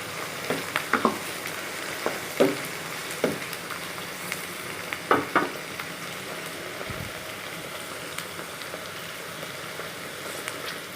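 Okra frying in a pan, a steady soft sizzle with scattered pops and crackles throughout and no voices.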